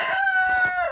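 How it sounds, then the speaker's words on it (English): A rooster crows once nearby, a loud, sustained tonal call rising then trailing off at the end, alone with no talking. "I'm gonna kill these fucking chickens."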